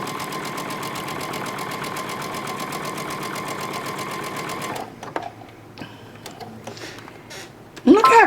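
A sewing machine stitches a quilt block in a fast, even mechanical whir lasting several seconds, then stops, followed by small handling clicks and a brief spoken remark.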